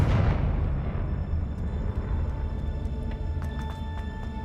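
A Confringo spell explosion in Hogwarts Legacy: one sharp, loud blast at the onset that decays into a long rumbling tail, with faint bright pings and chimes near the end.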